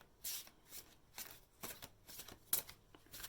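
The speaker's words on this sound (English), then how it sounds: "when I shuffle, they shuffle in lumps" A deck of tarot cards riffles in several short, papery bursts, close up and soft, with no voices.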